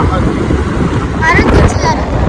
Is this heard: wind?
yes